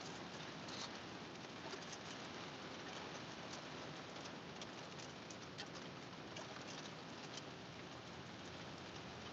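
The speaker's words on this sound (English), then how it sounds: "it is literally downpouring right now" Heavy, cold rain downpour falling as a steady, dense, unbroken hiss throughout, with faint bird cooing mixed into the background.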